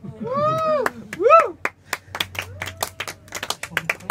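Hand clapping during a studio performance with piano, a series of sharp claps scattered across the moment after a couple of sung or played tonal phrases.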